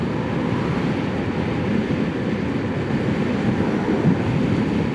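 Retro cafe racer motorbike cruising in fifth gear at around 50 miles an hour, a steady loud broadband engine and wind roar held throughout without letup.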